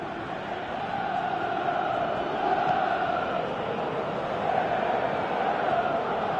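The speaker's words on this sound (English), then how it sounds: "you can hear how the crowd are reacting to this too" A stadium crowd in the football game PES 2018 roars in a steady, broad wash of noise, swelling slightly at moments, with no single voices standing out.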